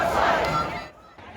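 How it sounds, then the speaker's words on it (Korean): A crowd roars and shouts in downtown New York at an anti-Trump protest over government policy, a loud swelling cheer at the start that fades to a quieter murmur after about a second. "뉴욕 도심에 함성이 울려 퍼집니다."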